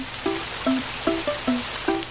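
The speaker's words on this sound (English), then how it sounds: "it started to rain" A playful cartoon rain sound effect for a children's duck story: bright plinking droplet tones fall in a loose, bouncy rhythm over a soft hiss, loud and close with no voices.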